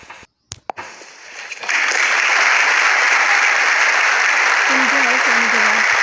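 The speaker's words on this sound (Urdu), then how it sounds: "ان کے حلف لینے کے بعد ہال میں بیٹھے لوگوں نے تالیوں سے ان کو خوش آمدید کہا" Audience in a hall applauding after an oath of office, steady dense clapping that swells in after a brief pause and carries on loudly, with a faint voice underneath.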